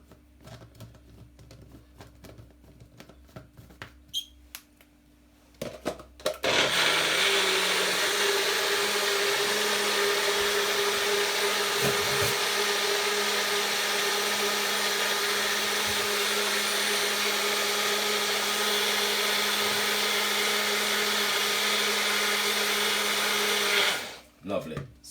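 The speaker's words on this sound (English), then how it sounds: "we're gonna blend this now" A blender whirs loudly and steadily for about eighteen seconds, mixing an apple cider vinegar drink, starting after some quiet handling noises and stopping abruptly near the end.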